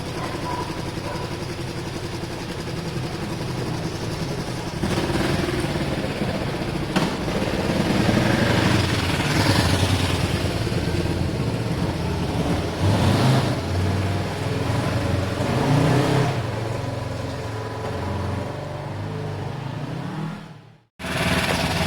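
Kawasaki ER5 motorcycle engine running steadily at close range, a continuous even idle with a few slight swells, cutting out abruptly near the end before the sound returns.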